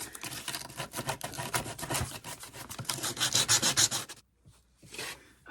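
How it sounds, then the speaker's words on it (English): Hand sanding with a loose sheet of sandpaper on a thrifted wooden home decor piece, close and fairly loud, in a run of quick rubbing strokes that stops abruptly near the end. "All right, I found a sheet of sandpaper. I prefer this."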